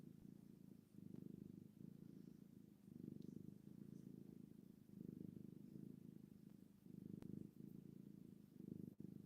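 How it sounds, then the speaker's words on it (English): A female cat purrs steadily and softly up close, a low rumbling drone that rises and falls with each breath in a regular rhythm. "She is just purring away."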